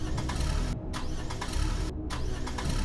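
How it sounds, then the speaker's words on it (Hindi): A car engine cranks repeatedly without catching, a steady grinding churn with two brief breaks where the starter pauses, loud and close with no voices. "गुल्ली गाड़ी स्टार्ट करता है लेकिन गाड़ी तो स्टार्ट ही नहीं हो रही है।"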